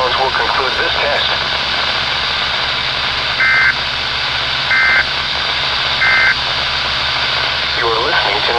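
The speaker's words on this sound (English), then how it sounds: "The following tones will conclude this test." Three short identical beeps of the Emergency Alert System weekly test on NOAA Weather Radio, evenly spaced over a loud, steady hiss of radio static and background hum, with brief faint speech at the edges.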